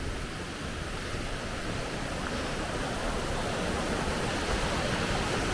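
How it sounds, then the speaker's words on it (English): Murray Creek Falls near Spences Bridge pours in a constant broadband roar, steady and loud with no pauses, heard alone without voices. "Oh, I see the falls."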